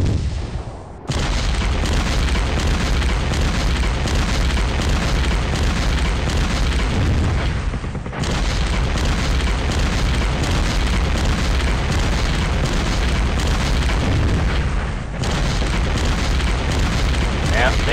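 Artillery barrage explosions from the wargame Steel Panthers: World at War, a dense, continuous rumbling roar of booms with brief breaks, loud and sustained throughout.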